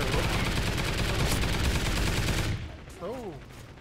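Turret gunfire in a first-person shooter video game, a dense continuous burst of rapid automatic shots lasting a few seconds, then cutting off into quieter game sounds with a brief rising electronic tone.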